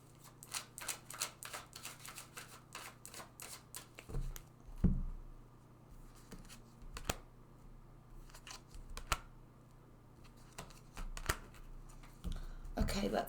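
Tarot cards are shuffled and drawn in a series of quick papery riffles and snaps, clustered at the start and near the end, with a few louder slaps between; no talk over them.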